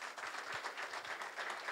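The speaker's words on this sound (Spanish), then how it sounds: "Les pido un aplauso para ella y la directiva." Crowd clapping at an outdoor parranda festival event in Telde, honouring an organiser and the festival committee; a short, lively burst of many hands with an uneven, pulsing texture throughout.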